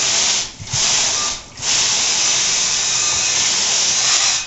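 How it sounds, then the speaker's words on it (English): A loud, steady hiss of water spraying off the outside of goat milking equipment, broken by two brief pauses near the start before it continues unbroken to the end. "Then you can hold it up and spray off the outside."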